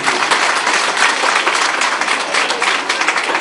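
An audience claps loudly and continuously at a school prize ceremony for an Iqbal competition in Islamabad, a dense, even roar of applause with no breaks.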